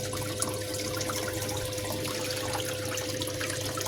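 Steady water poured and running over rocks while cleaning gold concentrate, a continuous close hiss and splash with no pauses.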